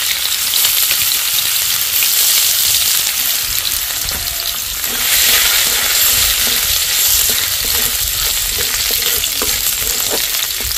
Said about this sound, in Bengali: তেল গরম হয়ে গেছে, দিয়ে দিচ্ছি 1 চামচ রসুন কুচি, 1 চামচ আদা কুচি